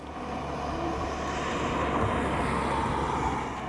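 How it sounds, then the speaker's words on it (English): A car approaching along a road in Turkey, heard as a steady, broad engine and tyre roar that swells gently and holds close for several seconds before easing slightly, with no talking over it. "there's a car"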